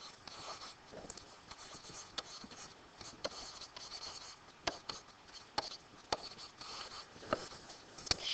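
A pen scratches across paper writing out equations, soft, close scraping strokes with small tapping clicks, steady and quiet with no talking.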